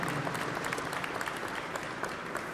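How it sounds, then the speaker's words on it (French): An audience claps through a steady, dense round of applause at the opening ceremony of the Centre UNI. The clapping is sustained and even, with no voices standing out. "je pense qu'on leur doit une très bonne main d'applaudissement"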